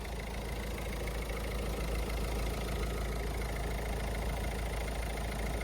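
A Citroen C4 Grand Picasso engine idles steadily with a low, even rumble and faint mechanical ticking, close by and unchanging throughout.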